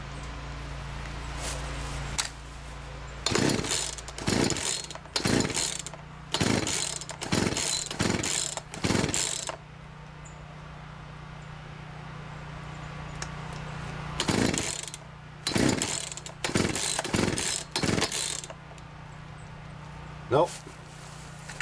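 A free chainsaw with its choke flipped is pulled repeatedly without starting, giving about a dozen short, sharp rip-cord bursts in two rhythmic series separated by a quiet pause, with a faint machine hum beneath.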